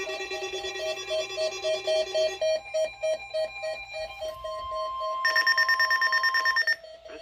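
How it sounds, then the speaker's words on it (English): NOAA weather radio alert tones from station KIG, National Weather Service Wilmington, Ohio: a steady pulsing beep pattern, then a higher, louder continuous warble-like tone, loud and alone with no talking. "Was a test of the weather radio station KIG."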